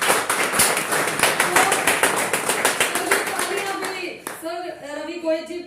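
Audience at a Hindi poetry open mic claps in a dense, rhythmic burst for about four seconds, loud and close, then the clapping fades out as a voice starts speaking.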